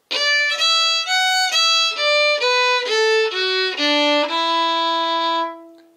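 A fiddle plays the opening of The Frost is All Over, starting on D, a clear solo run of about ten bowed notes, each distinct, settling on a long held final note that fades.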